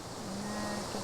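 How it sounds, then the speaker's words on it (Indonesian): Soft rustle of leaves brushing together, a continuous airy swishing like wind or distant surf, quiet and steady over about a second, with a faint low hum beneath it. "gesekan dedaunan, rustle of leaves."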